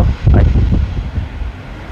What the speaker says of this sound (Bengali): খুব ভালো লাগে আজি ঠান্ডা ঠান্ডা বাতাস আসলে